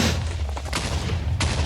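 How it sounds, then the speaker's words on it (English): TNT blowing up in Minecraft: dense, rumbling booms pile up continuously, with a sharper blast near the end, loud and close with no talking. "I've heard 2 explosions. 3, 4."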